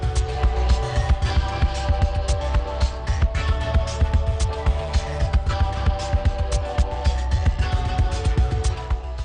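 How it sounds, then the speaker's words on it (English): A spinning steel mandrel wraps a rubber strip to build up a hose in a factory, giving a low, loud, rhythmic throbbing hum with repeated thumps and no voices. "As the mandrel spins, they wrap a rubber strip around it"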